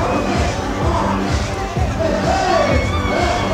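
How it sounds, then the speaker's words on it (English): A fight-event crowd at a Michigan Battle League main event cheers and roars steadily, a loud dense wall of voices and shouts with babble throughout and no pauses. "The crowd is really pumped up now"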